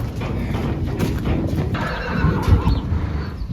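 A horse whinnies loudly and close by, a drawn-out neigh carrying over a steady background of stable noise, with hoof clops mixed in.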